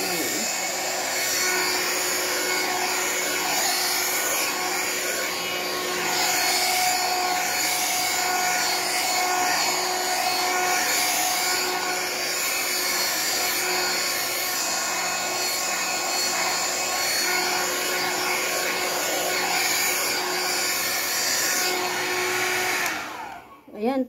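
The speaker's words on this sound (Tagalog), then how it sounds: "hair dryer." A hair dryer blows steadily at close range for the whole stretch, a continuous whooshing drone used to dry hair at night, cutting off abruptly at the end.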